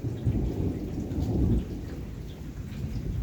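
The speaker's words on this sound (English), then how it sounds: "So I figured I'd record some of the nice thunder and lightning that's going on here this evening." An evening thunderstorm in Ohio: deep, rolling thunder rumbles over steady rainfall, loud at first and then easing into a softer, continuous patter.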